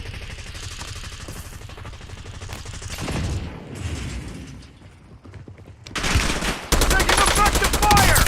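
Gunfire in the Call of Duty Warzone video game, with dense automatic bursts and mechanical clatter building toward a loud, sustained volley near the end, over a busy game soundscape and some voice.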